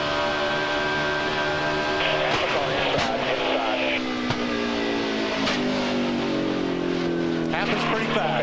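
Onboard a NASCAR race car at the 2005 UAW-GM Quality 500, a loud, close engine drone shifts pitch, cut by a sharp bang as the right front tire blows, followed by rattling and scraping, with radio voices beneath.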